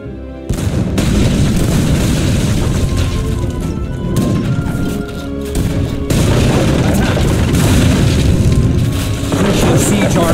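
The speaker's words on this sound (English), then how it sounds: "Here is another artillery piece, Nathaniel." Booming artillery cannon fire and crashing impacts fill a battle in Age of Empires III, loud and nearly continuous, with layered blasts and clatter of combat and occasional game voices mixed underneath.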